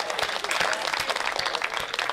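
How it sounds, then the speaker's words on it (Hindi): An audience claps steadily at a Haryanvi comedy poetry performance, dense continuous applause with sharp individual claps standing out, fairly close and even in loudness. "मैं तालियां चाहता हूं आपसे"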